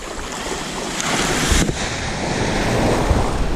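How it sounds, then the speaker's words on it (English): Sea surf breaking on Southbourne beach in Dorset, a steady broadband roar of waves with wind buffeting the microphone, building slightly louder toward the end. "That's a big wave."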